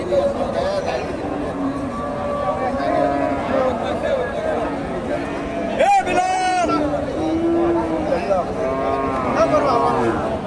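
Cows and calves at a Shahiwal cattle market in Gabtali, Bogura, mooing amid steady crowd chatter and bargaining voices, with one louder, closer moo rising out of the hubbub partway through.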